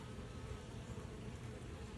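A steady, dense buzzing of many bees around a hive fills the whole clip, constant and close, with no voices.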